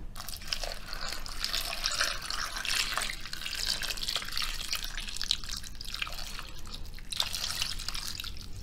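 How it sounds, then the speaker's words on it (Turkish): Water streams steadily from a kitchen tap into a bowl to soak fruit, a continuous close splashing and dripping rush that holds at an even level throughout, with no voices. "Çeşmenin altında tekrar doldurup şöyle hafif hafif sallayıp"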